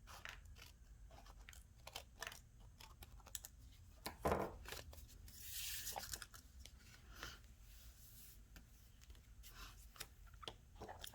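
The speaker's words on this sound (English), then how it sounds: "I'm just going to use my scissors to cut these off." Scissors snip through paper while trimming pieces for a handmade Christmas card, giving a few quiet, crisp cuts and a brief rustle against soft background noise.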